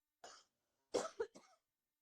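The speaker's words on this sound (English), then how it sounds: "I'm coughing 20 times and releasing the deeper poisons out of my mouth and throat" A single person coughs about three times, sharp rough bursts with a bit of throat clearing, close and fairly quiet with silence between them.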